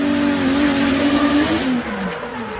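Drift car in Formula Drift qualifying at Monroe, engine revving hard and steadily as the rear tires barely break loose, a loud sustained roar with shifting pitch that dips near the end.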